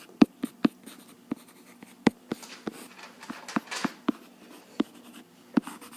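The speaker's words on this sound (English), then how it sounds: "Let's write that down." Marker or chalk tapping and scratching on a board while notes are written out, producing quiet, irregular taps and short strokes with pauses between them.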